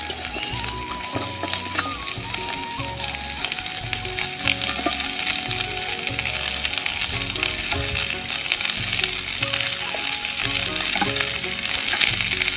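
Radish pieces fry with spice paste and dried fish in a pan, a loud, dense, continuous sizzle with crackling pops and repeated stirring throughout.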